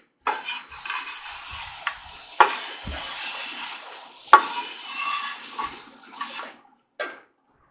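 Cooking collard greens: garlic squeezed through a garlic press and scraped into a pan, producing soft scraping and clinking of metal utensils against cookware with a few sharp knocks and a faint sizzle, up close with no talking.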